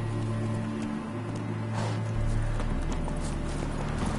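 Roach, a horse in The Witcher 3 video game, gallops with fast, rhythmic hoofbeats over light rain, loud and close, with a low game music drone underneath.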